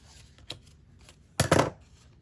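Scissors or a blade cutting along the score line of a cardboard gingerbread cookie box, a brief snip followed by a louder crisp cardboard cut, close and alone.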